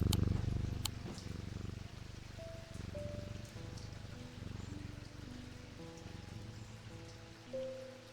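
A cat purrs in the Strange Antiquities video game, a low, rhythmic rumble steady under a soft patter of rain, with quiet musical tones drifting in.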